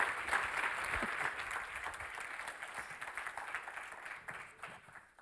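Applause from a conference audience at a science park event, a steady wash of many hands clapping at moderate distance that slowly thins toward the end.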